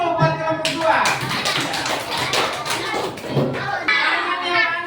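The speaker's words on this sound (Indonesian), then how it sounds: "Tepuk tangan dulu buat kelompok 2." Schoolchildren in a primary school classroom clap irregularly for a student group, mixed with tapping, shuffling and children's voices.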